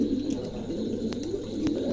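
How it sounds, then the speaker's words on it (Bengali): A pair of pigeons, a Copal-coloured male and an Andalusian female, coo in low repeated throaty phrases, close by and steady, with a few faint clicks in the background. "চমৎকার একজোড়া কবুতর"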